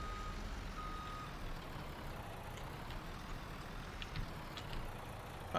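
A truck backing up in Farming Simulator 19 on a potato farm, a low continuous engine drone with faint, evenly spaced reversing beeps under it, no talk.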